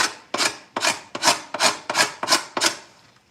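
A hand scraper works the wood inside a drum shell in eight firm, rhythmic strokes, each a raspy scrape rising and fading, close and clear with no talking.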